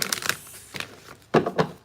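Tarot cards are shuffled close by in quick bursts of papery riffling and slapping, with a short pause between the first handful and a second, louder flurry.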